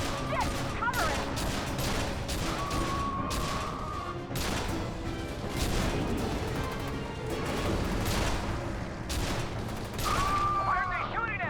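Sustained gunfire from a firefight in the video game F.E.A.R. 2: Project Origin, with dense, overlapping rapid shots and crashes that run steadily throughout while voices speak over the battle.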